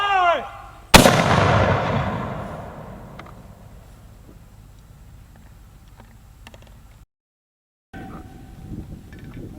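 A single heavy artillery-style blast from weapons firing during New Jersey Army National Guard 50th Infantry Brigade training, loud and near with a long rumbling decay, followed by faint mechanical clanking; a shouted command precedes it.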